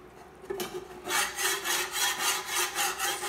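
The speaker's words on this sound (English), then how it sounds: "Scrape off some of those bacon bits." Bacon bits scraped off a well-seasoned carbon steel skillet on a portable induction cooktop, a soft rub followed by a run of rhythmic rasping strokes, close and fairly quiet with no talk.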